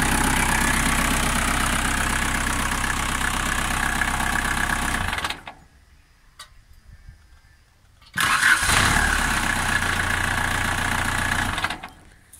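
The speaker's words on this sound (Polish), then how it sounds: "Silnik sobie mruczy." An orchard platform engine idles steadily with a low, even rumble, cutting out briefly to near silence before the same idle resumes.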